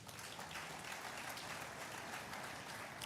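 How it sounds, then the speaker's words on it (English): Applause from an audience at a talk on Nigeria, a steady wash of many hands clapping at moderate level throughout, fairly distant and even, with no clear voices over it. "I think we can clap for ourselves."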